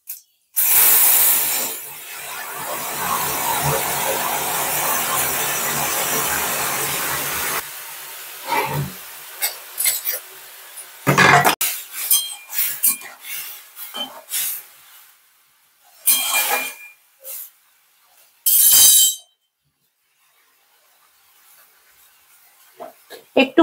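Whole cumin seeds hit hot mustard oil with a loud hiss and sizzle that lasts several seconds and then fades, followed by sporadic short clinks and crackles.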